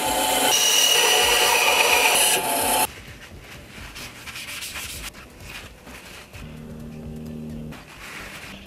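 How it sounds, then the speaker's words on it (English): A small piece of wood is cut out of a surface near a chandelier fitted with an ignition coil: loud, harsh rasping for about three seconds, then quieter intermittent scraping and a low hum, close by and with no voices. "I'm going to cut out a little piece of wood that protrudes from the surface"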